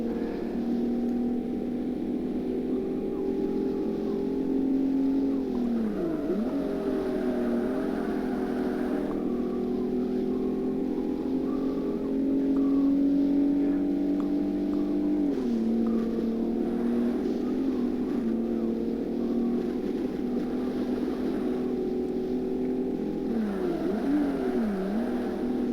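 A race car engine in Forza Motorsport drones steadily throughout, its pitch rising and then dipping sharply at several gear shifts or braking points, loud and continuous with no talk over it.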